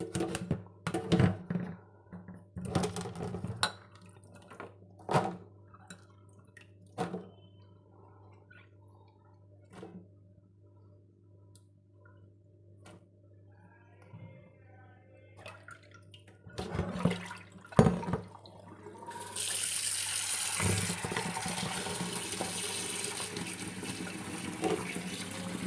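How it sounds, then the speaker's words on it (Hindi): Lemons and green chillies being washed by hand in water, with scattered splashes and sloshing, quiet pauses between, then a steady rush of running tap water toward the end. "इनको अच्छी तरह से धो लेना है, कम से कम 2-3 बार साफ धो लें।"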